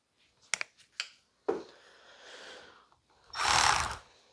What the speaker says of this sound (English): we're gonna remove the 10 millimeter nut on the stud here